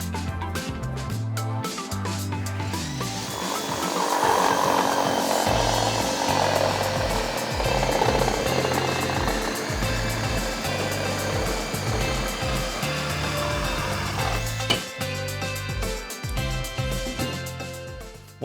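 Ryobi 18V ONE+ cordless reciprocating saw cutting, a steady loud buzzing drone with shifting pitch running throughout, the blade's rapid strokes chattering as it works through material.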